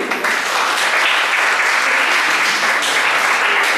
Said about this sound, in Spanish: Les pido un caluroso aplauso para él.